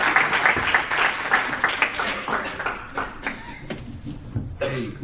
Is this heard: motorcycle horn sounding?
no